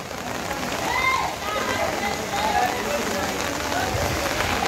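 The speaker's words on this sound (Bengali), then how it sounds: "এখনো বৃষ্টি হচ্ছে" Heavy rain beats down by a flooded riverside, a loud continuous patter on surfaces with faint tonal sounds drifting over it.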